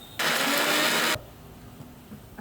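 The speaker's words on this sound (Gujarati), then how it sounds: "બધું સાથે જ ક્રશ કરી નાખશું આપણે વઘારમાં એડ કરવા માટે." A blender whirs loudly for about a second as it crushes 6-7 garlic cloves, an inch of ginger and one hot chili into paste for a dal tadka tempering, then cuts off and leaves quiet room noise.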